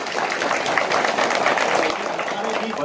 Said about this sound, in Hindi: सब लोग तालियां बजाओ।